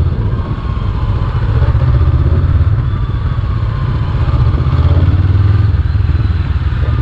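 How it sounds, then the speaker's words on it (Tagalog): A Honda Hornet 500 motorcycle with a 500cc engine runs steadily at low speed on a test ride around a track, a loud continuous low rumble close to the rider, with wind noise and no talking. "Siyempre 500cc to, kaya medyo malakas na rin."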